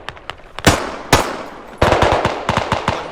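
Rapid bursts of close automatic gunfire in the video game Squad, loud cracking shots in uneven clusters with brief pauses between volleys, no talk over them.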